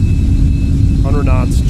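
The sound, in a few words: Boeing 747 jet engines at takeoff thrust in Microsoft Flight Simulator 2020 video game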